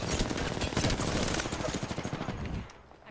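Rapid automatic gunfire from the video game Apex Legends rattles continuously and loud for over two seconds, then cuts off into near quiet.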